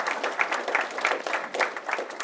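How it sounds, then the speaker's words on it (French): Light audience applause after a seminar introduction, a steady patter of clapping that stays moderate and fairly distant for about two seconds with no voices over it. "on peut l'applaudir"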